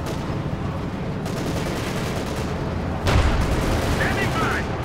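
Panzer tank combat in Company of Heroes 2: dense rumbling battle noise with gunfire and explosions, swelling into a heavier boom near the end, with voices mixed in.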